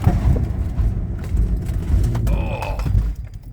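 A car towing an open car trailer performs a panic stop from about 35 to 40 mph with the trailer brakes engaged, giving loud low engine and road rumble, creaking mechanical noise and a brief squeal near the end as it halts.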